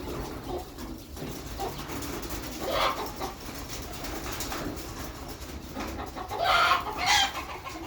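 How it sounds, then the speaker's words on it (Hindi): Chicken chicks cluck and chirp in scattered bursts, with a louder flurry of calls near the end over steady background noise. "मुर्गी के बच्चे।"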